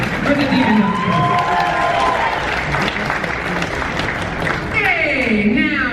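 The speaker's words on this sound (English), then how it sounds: "We should clap louder for the demon house." A crowd at a horror fan convention claps and cheers for a demon-house act, loud continuous applause with scattered shouts and voices mixed in, swelling again near the end.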